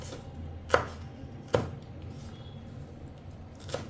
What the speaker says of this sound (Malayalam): കുറച്ച് മല്ലിയില എടുത്ത് വെച്ചിട്ടുണ്ട് കേട്ടോ അതും കൂടി ഒന്ന് ചെറുതായിട്ട് അരി നമുക്ക് ശരിയാക്കാം